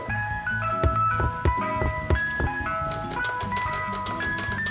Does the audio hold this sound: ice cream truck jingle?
yes